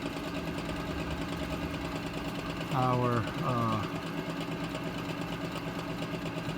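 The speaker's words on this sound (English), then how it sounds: "you heard the power venter speed up, which obviously means the induced draft came on to help it" A gas furnace power vent motor hums and whirs steadily at close range, with a voice speaking over it on a no-heat service call where the vent motor is failing to prove.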